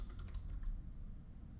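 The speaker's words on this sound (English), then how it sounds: "All I want to do is just type in Packet Tracer." Soft, quick keystrokes on a computer keyboard, a short burst of typing heard alone at low level in a quiet room.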